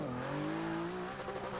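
Porsche 911 GT2-RS on a stock tune launching in a Forza 6 drag run, its engine note climbing steadily through a loud, continuous rev with a faint tire squeal at the start.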